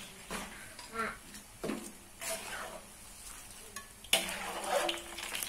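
Sweet potato pieces coated in sugar fry and crackle in a hot wok while being stirred and lifted out, with scraping utensil clatter and a quiet voice in the background.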